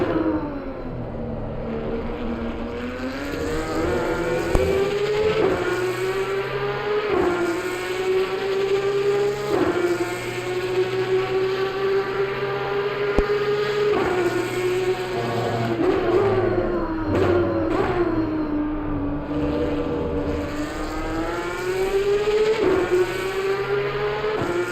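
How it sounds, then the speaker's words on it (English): A Porsche race car engine in Assetto Corsa Competizione at the Red Bull Ring, droning loudly and steadily throughout, its pitch rising and dipping through gear changes and throttle lifts. "Let's listen to Jerry's motor for a second, chat. Let's really appreciate this Porsche."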